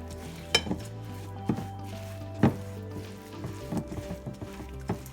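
Eggless, butter-free oat cookie dough mixed in a bowl after adding vanilla extract, producing scattered spoon knocks and clatters against the bowl over a low steady hum, close and moderately quiet.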